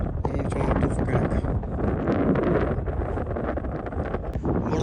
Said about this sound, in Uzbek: shamol bo'lib ketdi